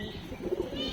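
Line-bred pigeons coo in a brief, soft, low murmur that holds steady for about a second.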